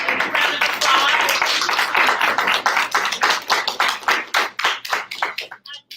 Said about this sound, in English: Just a big round of applause.